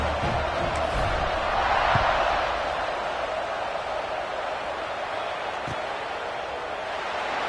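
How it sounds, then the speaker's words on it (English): A football stadium crowd keeps up a dense, steady buzz of cheering and chatter between plays, a broad wash of noise that swells slightly early on and then holds level, with no clear voices standing out. "this crowd is buzzing after that last score"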